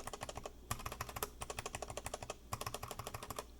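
Mechanical keyboard keys with PETG keycaps clack in quick, steady bursts of typing, close and crisp with a deeper sound, with brief pauses between runs of presses.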